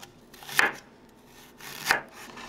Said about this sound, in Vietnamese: Kế đến là cắt gừng ra từng lát như vậy nha.